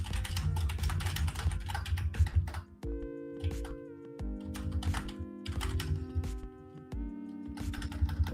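Rapid keystrokes rattle on a computer keyboard in uneven bursts, clicking close and clear over a faint background of steady electronic tones, with no one speaking.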